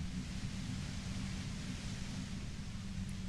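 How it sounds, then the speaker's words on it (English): A steady wash of white noise in Disco Elysium, a broad, even hiss with a low rumbling bed, constant and moderately quiet with no voices. "You hear the white noise."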